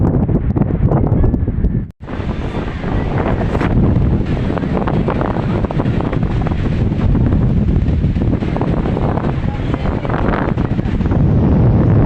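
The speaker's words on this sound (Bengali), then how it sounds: "ভীষণ হাওয়া এখানে, অসাধারণ।" Strong wind at Digha sea beach buffets the microphone in a loud, steady roar, with a brief cut near the start and muffled surf and voices buried underneath.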